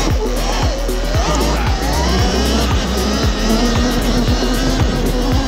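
Surron Ultra Bee electric motorbike, an 80V high-speed model, riding past outdoors with a loud continuous whine and rushing tyre and wind noise, steady throughout with no voices.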